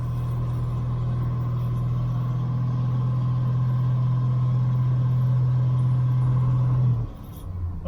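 Jeep CJ-7 engine with a Holley Pro-Jection 1D throttle-body injection held at a steady mid-range RPM, running rich, a loud constant drone that drops off abruptly near the end.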